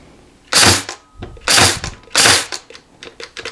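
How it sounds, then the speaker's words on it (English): A 23 gauge cordless pin nailer fires pins in three sharp, loud cracks about a second apart, each with a short mechanical rattle trailing off, close up and with no talking. "Let me run this out and see how many pins are left after the dry fire kicks in."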